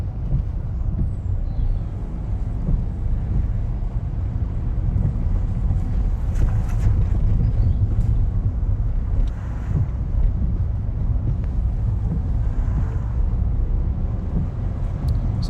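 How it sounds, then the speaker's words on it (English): A car engine roars steadily during a UK learner driving lesson, a continuous loud low drone mixed with wind rumble inside the moving car, with no voices over it. "So you hear the engine roaring"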